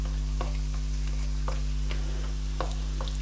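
Finely chopped garlic, seven or eight cloves, frying toward golden in a pan: a soft continuous sizzle with scattered light clicks of the spatula, over a steady low hum.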